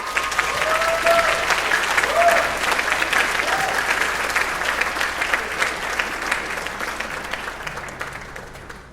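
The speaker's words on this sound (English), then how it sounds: "So one more round of applause for the Wind Ensemble" Sustained audience applause at a University High School spring band concert, honoring the Wind Ensemble; dense, steady clapping from a large crowd that fades slightly toward the end, with faint voices underneath.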